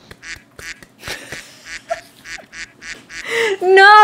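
Duck quacking in a video game, a string of short nasal quacks in uneven rhythm, loud and close, ending in a longer honking burst as a voice overlaps near the end.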